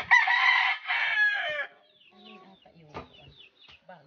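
A rooster crows loudly and close by on a rural trail in Bulacan, Philippines, two long drawn-out calls followed by softer clucks and faint rustling.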